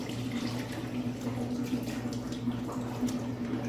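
Water rinsing through a beer keg's Sankey valve in a microbrewery, a steady continuous wash with a low hum underneath.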